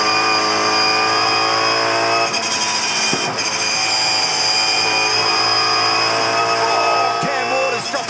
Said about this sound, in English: We're riding now with Chaz over the top of the mountain.